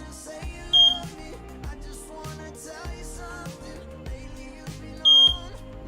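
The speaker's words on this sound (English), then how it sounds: "My smoke alarm is going off." A home smoke alarm sounds two short, loud electronic beep bursts a few seconds apart, over steady background music, in a hot Florida home.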